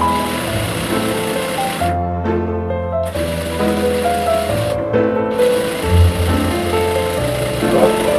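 A sewing machine stitches a shirt sleeve seam, its motor whirring loudly and close in long runs broken by two brief pauses.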